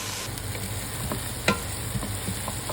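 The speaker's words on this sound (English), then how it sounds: "Let those onions saute for about 4 minutes until they soak up all those savory brown bits" Red onions sauteing in a pot with browned beef bits give a steady, soft sizzle, with a few brief stirring clicks and scrapes and no voices.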